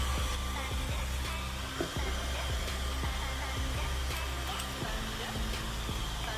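A 3D-printed CPAP cooling fan runs at full speed, giving a steady, close, whooshing air hum with a constant tone and faint clicks throughout.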